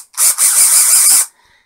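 A Parkside cordless drill powered by a Wickes 10.8V 1.3Ah battery runs in one loud, close burst of about a second, a high whirring whine with a slight pulsing rhythm that stops abruptly, with no voices.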